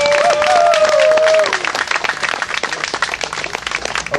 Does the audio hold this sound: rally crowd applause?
yes